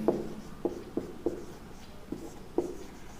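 Writing on a board or page during a math lesson, soft scratchy strokes and light taps in short irregular bursts, faint and close.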